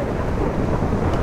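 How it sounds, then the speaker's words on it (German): Thunder from lightning strikes in Minecraft: a dense, steady rumbling roar with broad noisy texture, loud and continuous throughout, with no voices over it. "Das sind die Blitze. Alter, die schlagen hier überall ein."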